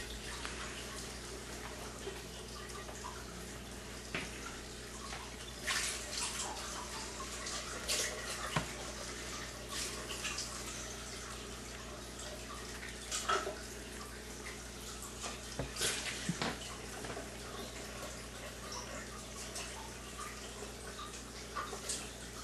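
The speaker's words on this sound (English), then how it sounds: "now we got the KYK Harmony at full water flow" Water gushes at full flow from a KYK Harmony water ionizer in a steady, continuous rushing stream, close and fairly loud, with small splashy fluctuations and no talking.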